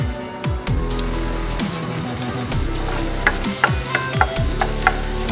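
Garlic frying in vegetable oil for a cauliflower white macaroni pasta, giving a steady close sizzle with occasional clinks and scrapes of stirring throughout.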